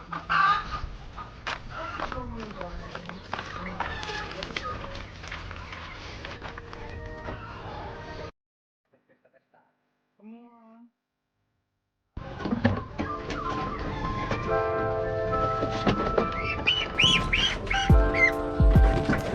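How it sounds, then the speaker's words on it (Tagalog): Large oversize ducks squawking and clucking noisily while being caught and transferred into a cage, loud and close with handling noise, broken by a brief near-silent gap before the racket resumes. "kapag trinatransfer mo yung mga pato doon pag ganyan ng malalaki"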